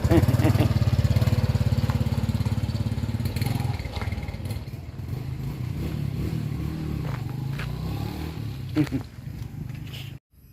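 A motorcycle engine revs loudly up close as it is ridden, then thins and recedes into a lower, steadier drone while people talk nearby.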